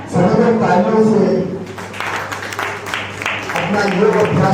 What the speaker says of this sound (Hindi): तालियां बढ़िया योग का साधन बनती है